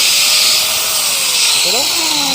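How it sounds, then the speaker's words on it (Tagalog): An angle grinder runs at full speed in a workplace in South Korea, a loud, steady, high-pitched motor whine that fills the moment, with a voice faintly audible beneath it. "At siyempre ito yung grinder natin. Subukan natin yung paganahin"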